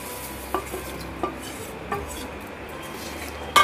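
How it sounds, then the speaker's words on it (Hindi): Vermicelli fried earlier is stirred into custard in a pot, giving a soft, steady scraping with a few light spoon clinks against the pot and a sharper clatter near the end. "और इसे लगातार चलाते हुए 5 से 6 मिनट तक इसे हम लगातार चलाते हुए अच्छे से पकाएंगे"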